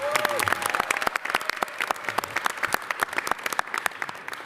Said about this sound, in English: Let's give Eddie a big round of applause.